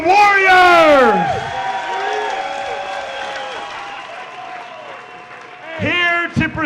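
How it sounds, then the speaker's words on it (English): An arena crowd at an MMA event applauds and cheers the two fighters, with a loud swell at the start that fades to a steady background roar. An announcer's amplified voice booms over it near the start and again at the end. "one more round of applause for these two warriors!"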